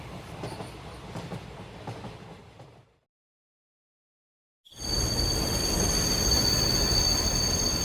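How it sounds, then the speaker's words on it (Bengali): A cartoon sound effect of a train rattling along on a rainy cold night near Diamond Harbour station, breaking off into brief silence before a loud, steady rumble with a high metallic brake squeal. "ট্রেনটা একটা ঝাঁকুনি দিয়ে খুব জোরে একটা ব্রেক মেরে দাঁড়িয়ে পড়ল"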